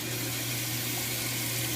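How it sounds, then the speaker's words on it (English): Cold water runs from a tap in a steady, close, continuous rush, alone without any voices. "I turn the cold water on"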